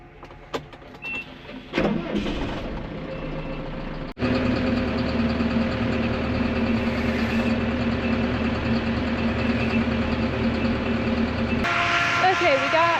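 A farm tractor idles and rumbles steadily in a machine shed while being parked at the end of a harvest day, with a brief pause before the engine note resumes and holds loud and constant.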